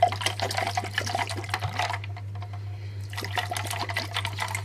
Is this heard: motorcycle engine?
no